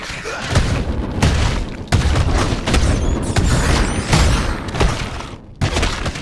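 Rapid, loud booms from a barrage attack against skeletons in Baldur's Gate: Dark Alliance, several heavy explosions following one another almost continuously, with no talking.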